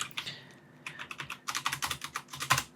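Close, quick keystrokes on a computer keyboard come in short irregular clusters of crisp clicks, with a brief pause near the start before the typing picks up again.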